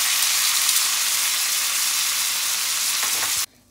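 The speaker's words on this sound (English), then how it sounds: "So now that I've finished frying the fish, all the goodness in the pan" Grey snapper fish fries in a pan over medium heat, a loud steady sizzle and crackle that runs unbroken for about three and a half seconds before cutting off abruptly.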